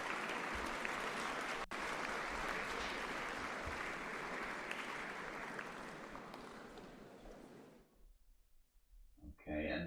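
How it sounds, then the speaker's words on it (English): A lecture audience at an information security class applauds steadily for about eight seconds, a dense, even wash of clapping that fades out near the end, leaving brief quiet before a voice returns. "Round of applause."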